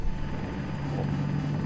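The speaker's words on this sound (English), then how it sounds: "You're getting tailed by a chopper." Steady, loud helicopter rotor and engine drone from Battlefield 2042 gameplay, a continuous low thrumming hum with no talk over it.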